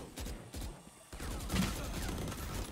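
Rapid gunfire from Chamber in the tactical shooter Valorant on the Breeze map, a dense run of sharp repeated shots with brief pauses, close and loud, with faint game effects underneath.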